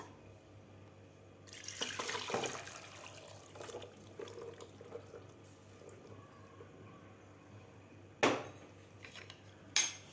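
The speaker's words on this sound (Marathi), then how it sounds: "आता आपल्याला हे सुद्धा पालक थंड पाण्यात घातलेला गाळून घ्यायचं आहे।" Boiled spinach is drained from cold water in a kitchen, with a burst of pouring and splashing water, rustling and dripping, then sharp metallic clinks of a pot or utensil near the end; fairly quiet overall.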